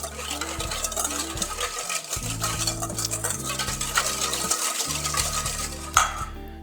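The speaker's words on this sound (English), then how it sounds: "And a little bit of sugar. That'll counterbalance the tartness of our dressing. And we'll take a whisk" Sugar whisked into a salad dressing in a bowl, a brisk continuous rhythmic scraping and clinking of the whisk against the bowl, close and fairly loud, with a brief sharp knock near the end.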